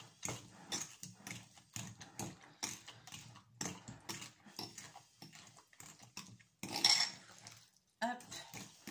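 Onion filling being stirred into beaten egg in a bowl, a rapid run of clinking utensil scrapes and taps against the dish, close and fairly quiet, ending in a louder clatter.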